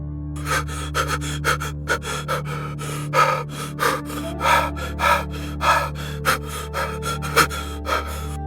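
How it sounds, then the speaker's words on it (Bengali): Heavy, ragged breathing from a horror cartoon soundtrack, a loud series of close gasping inhales and exhales in an uneven rhythm over a low droning hum, with no speech. "শুধু শোনা যাচ্ছে ভারী নিঃশ্বাসের শব্দ।"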